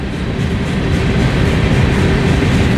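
A freight train passing near Barstow, California, a loud steady rumble and roar of rolling cars that swells slightly and holds, close to the listener with no voices.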